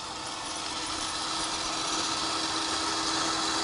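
A 3,000-pound electric winch on a lifted six-passenger golf cart reels its cable back in, a steady, close motor whine and hum holding evenly without pause.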